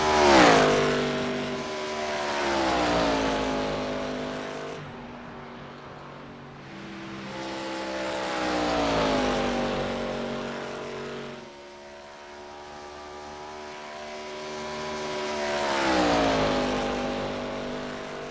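Onboard the 02 Bass Tire Chevrolet race car at Atlanta Motor Speedway, the engine howls loud and close, its pitch rising and falling in repeated cycles as it accelerates and lifts through each lap.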